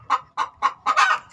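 A chick clucks five times in a chicken coop, close and fairly loud, in quick uneven bursts with the last call drawn out, with no one speaking.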